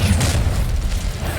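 Incendio fire spell blast in Hogwarts Legacy combat, a short loud whooshing boom with a fiery rush that fills the moment without pause.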